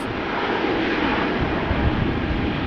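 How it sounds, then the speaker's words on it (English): A Bulgaria Air Airbus A220, formerly the Bombardier C Series 300, roars loud and steady during its takeoff run at Amsterdam Schiphol, a broad, continuous jet rumble with no voices. "Bulgaria Air is taking off"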